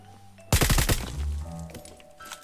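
Rapid burst of UMP submachine gun fire in PUBG, about seven or eight sharp shots in quick succession, loud and close, followed by lingering reverberant game sounds.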